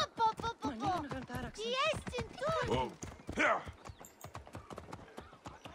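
Steady clip-clop of horse hooves in Assassin's Creed: Origins, mixed with a voice talking over it and a short whinny.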